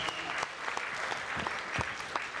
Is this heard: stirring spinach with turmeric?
no